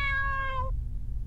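A single clear cat meow in a horror video game (Left Behind), close and tonal, lasting under a second before fading into a quiet low hum.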